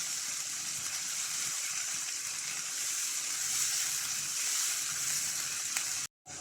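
Tomatoes with salt cooking in a pan on a medium flame, a steady broad sizzle that holds throughout, cutting out abruptly near the end before resuming briefly.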